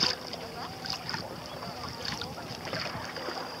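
Gusty wind buffeting outdoors while sailing an Optimist dinghy, a low rumbling rush with water lapping faintly beneath.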